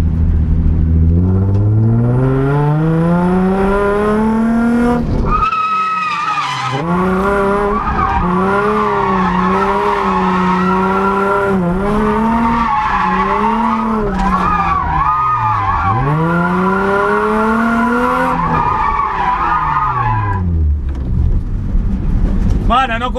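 A car drifts with a passenger riding on its roof, tires squealing in long loud sweeping tones as the engine revs rise and fall, continuous and close, with a brief break partway through.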